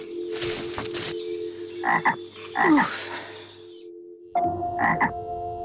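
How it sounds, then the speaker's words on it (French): Toads croaking in short, close, clear bursts, several separate croaks spaced over a few seconds with brief pauses, heard alone without talk. "Sauvetage des crapauds, mission accomplie."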